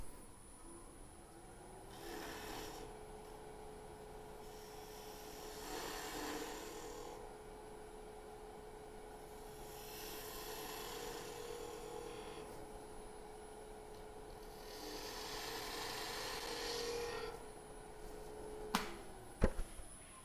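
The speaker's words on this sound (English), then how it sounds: "I'm gonna grab bowl gouge again. I'm just gonna finish out this cut." A bowl gouge shaving a wooden sphere on a lathe gives repeated rasping cut passes over a steady motor hum, close and fairly even, ending with a few sharp knocks.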